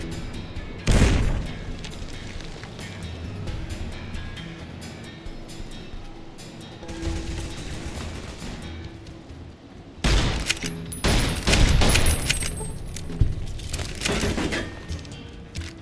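Gunfire in Fallout: New Vegas, several bursts of shots and booming impacts, one sharp report early, then a cluster of loud rapid shots in the second half over quieter game ambience.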